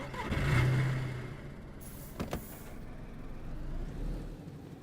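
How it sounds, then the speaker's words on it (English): Car engines in the survival video game DayZ, on the Livonia map, rumbling steadily with a low drone and a brief sharp clunk midway, no voices present. "because the cars are loud"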